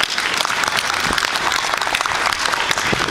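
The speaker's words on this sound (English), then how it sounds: "Please give them a round of applause." A crowd at an outdoor Japantown gathering in San Francisco gives a round of applause for the sound crew, dense and loud clapping from many people sustained throughout.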